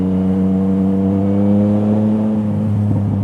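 A Yamaha MT-09 motorcycle with an Akrapovič exhaust hums steadily while cruising through town at about 30 mph and 4,000 RPM, a close, loud, even engine drone.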